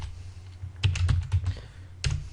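Fingers tap out a password on a computer keyboard, a quick irregular cluster of clicking keystrokes followed by a pause and one final firm key press, close and moderately loud with no talking.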